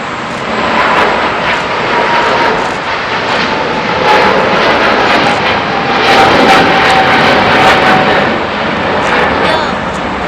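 Philippine Airlines jet airliner with GE engines taking off, a loud continuous broadband engine roar throughout with a faint whine, while people talk nearby.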